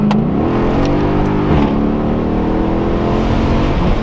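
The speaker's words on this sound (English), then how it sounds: "First pull in a E63 AMG. Let's see, because it sounds pretty good too." A Mercedes E63 AMG in Sport Plus mode accelerating hard, its engine note rising in pitch, dipping briefly at a shift and climbing again, loud and close from inside the car with no talk.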